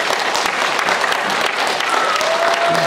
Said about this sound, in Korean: 이렇게 기쁨의 박수를 한번 치시던가